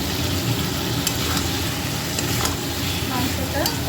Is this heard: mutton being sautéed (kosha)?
yes